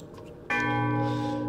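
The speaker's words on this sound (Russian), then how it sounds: "Колокол с силой раскачивается" A church bell in the video game Banner Saga 3, struck once after the rope is pulled, a loud ringing clang that hangs on with a long, bright, humming decay.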